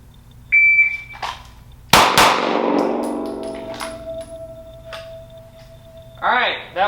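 At a shooting range, a shot timer beeps and then a handgun fires a single loud, sharp crack close by that rings off, followed by a quieter tone and brief voices.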